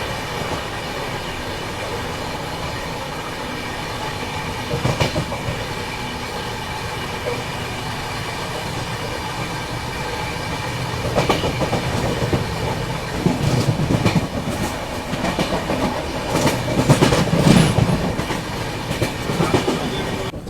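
A passenger train passes on the neighbouring line near Barsoi Junction, a steady rumble with rhythmic wheel clicks on the rails that grow louder and more clattering toward the end, heard without any talk.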